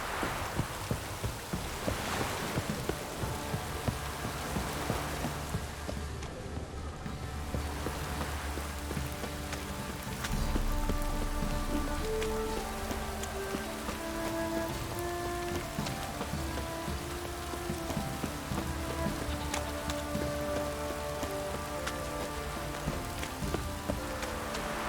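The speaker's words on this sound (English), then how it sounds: "This downpour's a bastard," Heavy rain pours steadily in The Witcher 3, a dense, continuous hiss of drops on surfaces with low rumbling underneath, no voices present.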